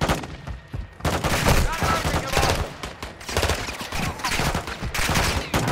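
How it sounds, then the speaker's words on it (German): A dense barrage of gunfire and explosions from an artillery fire mission in the video game Call of Duty: Modern Warfare 2, with loud, continuous rapid-fire blasts across the whole stretch. "Ziel markiert. Ziel erfasst. Schüsse abgefeuert."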